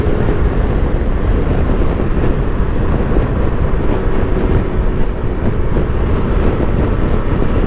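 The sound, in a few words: wind buffeting on KTM Super Adventure R motorcycle screen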